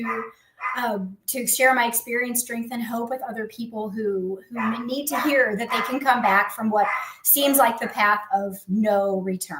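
A dog barks and yips repeatedly in the background while someone speaks steadily over it, the barks mixed under her voice throughout.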